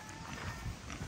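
Pig on a farm, grunting and snorting low and close, with faint background noise.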